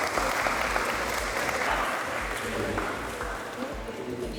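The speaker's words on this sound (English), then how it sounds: "round of applause, round of applause, round of applause." Applause from a crowd at a speed dating event, a steady wash of clapping at moderate volume with chatter and voices mixed underneath.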